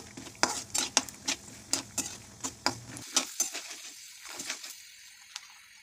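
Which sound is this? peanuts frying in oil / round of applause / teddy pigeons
peanuts frying in oil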